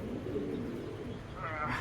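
Soft, low cooing from a racing pigeon sits in the background beneath a voice, with a faint higher chirp near the end.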